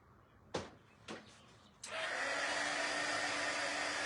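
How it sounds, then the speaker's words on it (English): A hair dryer runs steadily at close range to dry chalk paint on a vintage Halloween craft piece, starting after a couple of sharp knocks and then holding a loud, even whir. "Could you hear the dryer still?"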